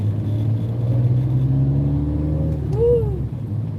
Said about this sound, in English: I tell you, this car sounds good.